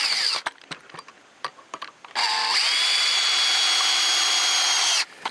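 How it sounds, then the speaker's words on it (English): A power drill drives 1 3/4-inch deck screws through a bracket into a tree: scattered handling clicks and taps first, then one loud, steady, close whirring run of about three seconds that cuts off abruptly, with no talking. "I'll use the 1 3/4-inch deck screws to fasten the butt end to the tree."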